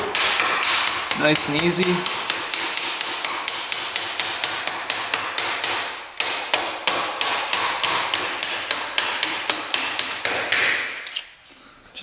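Steady metal hammer blows drive a shock bolt out of a worn, neglected quad, dozens of sharp evenly spaced strikes close by, pausing briefly midway before the pounding resumes, with a short spoken remark early on.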